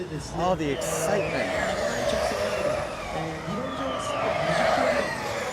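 Race cars slow hard into a corner on a still-wet circuit near Tokyo, engines and brakes rising and falling as they pass, with a spectator talking excitedly over the steady track noise.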